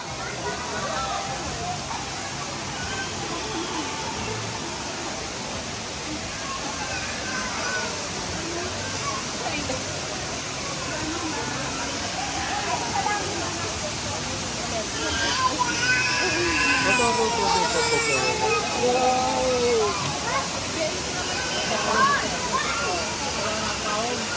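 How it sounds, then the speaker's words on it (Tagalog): Continuous rushing and splashing of Aliw Falls in Luisiana, Laguna, steady and broad, with faint voices and chatter mixed in. "unti-unti lumalakas ang splash o tunog mula sa bagsak ng tubig"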